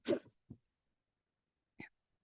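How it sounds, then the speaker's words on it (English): A single sharp sneeze bursts out near and fairly quiet, followed by a couple of small breathy sounds in otherwise silence. "I'm about to sneeze"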